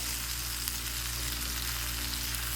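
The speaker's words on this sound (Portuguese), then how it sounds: "refogando aqui a minha cebola" Chopped onion sautéing in a pan with pink salt for a green banana dish, giving a steady, close sizzle and frying hiss that holds evenly throughout with no talking.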